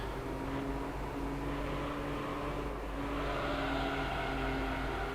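In Gran Turismo 3, a car launches at full throttle with an automatic gearbox, its engine droning continuously and steadily at moderate volume, the revs shifting slightly midway, with no talking.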